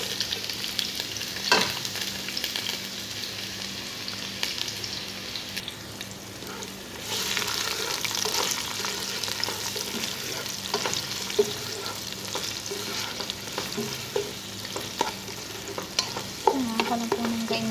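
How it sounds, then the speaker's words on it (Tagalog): Garlic and onion sautéing in a pan for a lamb pulao, a steady close sizzle that runs throughout with repeated stirring scrapes and a few sharper clinks of the utensil, no one speaking. "magigisa na po ako ng bawang para sa laham"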